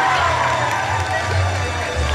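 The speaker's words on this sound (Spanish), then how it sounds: "fuerte voto de aplausos" Loud crowd applause and cheering at a cosplay event in Cusco, a dense, steady wash of clapping and voices from a large audience.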